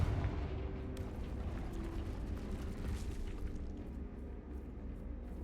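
A Confringo blasting spell detonates against a barrier in Hogwarts Legacy, giving a deep rumbling blast with crackling debris that rolls on steadily at moderate volume with no talking.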